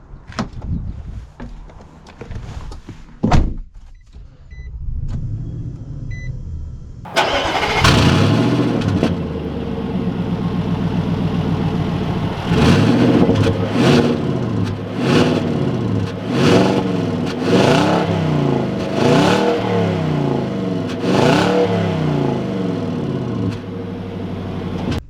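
A 2021 Nissan Titan Pro-4X pickup truck: a few thuds and clicks come first, then the engine catches and settles into a loud, close idle. It rises and falls through repeated revs as it pulls away.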